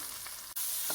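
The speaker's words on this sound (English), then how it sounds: "You have a nice frying going on" Pine nuts fry in a tablespoon of oil in a pan for escarole pizza, giving a steady close sizzle with a brief dip in the middle.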